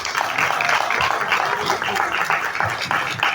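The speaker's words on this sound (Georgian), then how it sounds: "ტაშით მივესალმოთ მათ." Audience applause greets two singers taking the stage at a live concert, a steady dense wash of clapping that stays loud and even throughout with no break.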